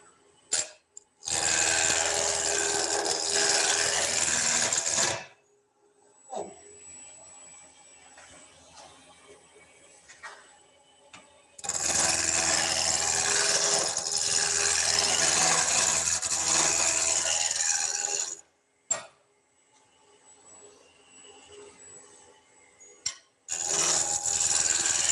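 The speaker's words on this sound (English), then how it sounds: "I'm going to start out with a roughing out gouge." A roughing out gouge cutting a wooden spindle on a wood lathe for duplicating parts, heard as two long, loud stretches of steady cutting noise separated by quieter pauses, with no talking.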